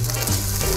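Onion sizzling in hot oil in a pot at the start of a seafood soup, a steady close frying hiss throughout this short moment, with no voices.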